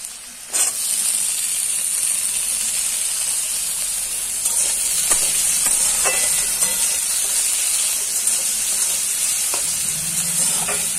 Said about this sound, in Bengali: কড়াইয়ে তেল দিয়েছি আর তেলের ওপরে সব আলুগুলো আমি দিয়ে দিলাম। আলুগুলো ভালোভাবে ভেজে নেব তেলে।